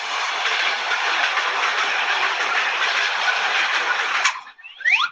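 A coal-powered train runs past loudly, its steady rumbling clatter filling the air before it cuts off abruptly near the end, followed by a short squeal.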